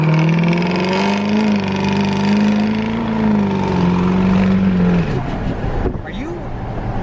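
A Duramax L5P diesel pickup accelerates at about quarter throttle, a steady close engine drone from inside the cab that rises slightly in pitch, then eases off near the end.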